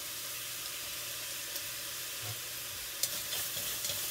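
Garlic, sage and thyme sizzle gently in a pan after the milk-braised pork has browned, a steady low frying hiss with a few soft stirring clicks near the end and no talking.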